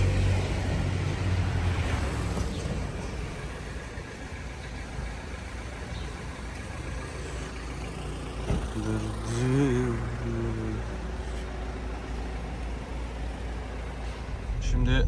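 A 1.7 DTI diesel engine in an Opel Corsa idles with a steady, continuous rumble close by while people talk over it.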